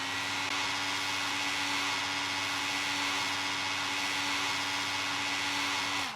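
A hair dryer blowing on a dog in the video game Animal Shelter Simulator, a steady loud whirring hum that holds evenly for several seconds, then cuts off abruptly at the end.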